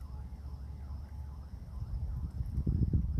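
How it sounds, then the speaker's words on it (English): Strong, gusty wind that has blown for days roars steadily outdoors, a broad low rumble that swells louder and more buffeting toward the end. "The wind has been blowing 2 or 3 days now. Been blowing strong too."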